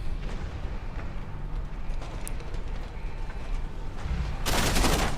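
Rapid gunfire in the video game Deus Ex: Human Revolution, a dense, loud burst of close shots building into a harsh, bright crackle at the end.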